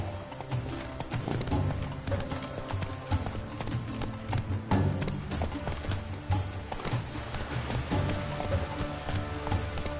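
A horse gallops in the video game The Witcher 3: Blood and Wine, its hooves clip-clopping in a rapid, continuous rhythm. Faint game ambience plays underneath the moderately quiet hoofbeats.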